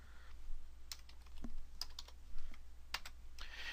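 Computer keyboard being typed on while entering Excel VBA code, a series of sharp, irregular key clicks with brief pauses, close and moderately loud, no speech.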